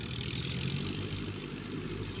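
A hand tractor plowing a rice field near a village sends out a steady, low, continuous engine drone, heard alone at a moderate distance without pause.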